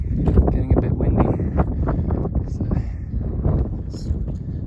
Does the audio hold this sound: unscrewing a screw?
no